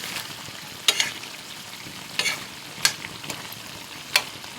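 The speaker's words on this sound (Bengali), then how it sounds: "লবণ দিয়ে এবার আমি ভালো করে আবারও ঢাকনা খুলে কষে নিচ্ছি।" Chicken masala with salt frying in an open pan, a steady low sizzle with four sharp stirring scrapes spaced about a second apart.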